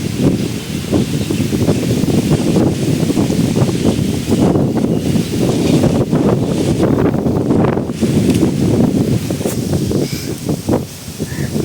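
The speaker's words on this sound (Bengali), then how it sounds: "হালকা ঝোড়ো হাওয়া, বৈশাখী ঝোড়ো হাওয়া শুরু হয়েছে।" A strong Baishakhi storm wind shakes trees under a dark evening sky, roaring loudly and continuously with gusts buffeting the microphone and leaves rustling throughout.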